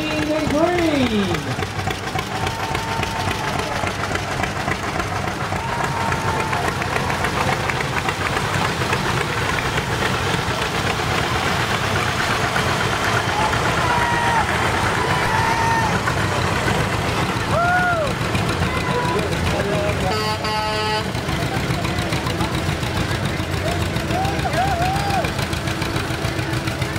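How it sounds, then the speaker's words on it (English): John Deere tractors, including a 1948 model, idle and chug in a street parade in Dayton, Tennessee, a steady low engine rumble with knocking under continual announcer speech and crowd noise, with a brief horn-like tone. "We got John Deere Tractors, Mean, Lean, and Green."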